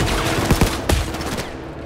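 Rapid bursts of gunfire in a virtual reality heist video game, loud and close, with a few sharp shots cutting through a dense, continuous rattle.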